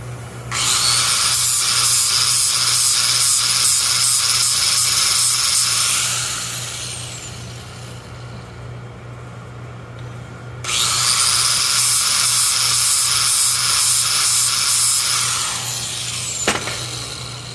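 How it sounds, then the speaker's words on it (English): A milling machine takes a few thousandths off a steel key in two loud, high-pitched whirring cutting passes, with a quieter pause between them and a brief click near the end. "take this key over to the milling machine and make sure that we just take off just a few thousandths very, very accurately"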